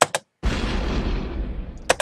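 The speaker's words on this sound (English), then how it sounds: "which actually sounds like an explosion" Downloaded explosion sound effect prepared for a video edit: a sudden loud broadband blast after a brief gap, with a long rumbling roar that slowly fades over about a second and a half, bracketed by short sharp clicks.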